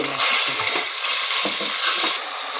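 Minced meat frying in hot oil in a pan, a loud, dense sizzle with crackling and stirring scrapes throughout, close up and without talk.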